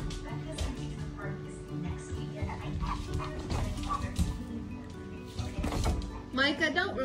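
Several dogs yip and bark excitedly amid scuffling and movement, with people talking over the lively commotion.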